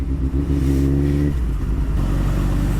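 A motorcycle engine revs up and drops back several times during rev matching on a night ride, a steady rumbling idle between blips, loud and close.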